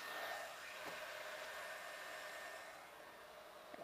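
A hair dryer blows steadily while hair is blow-dried during a salon blowout, a constant airy whir that stays close and fairly even before easing slightly toward the end.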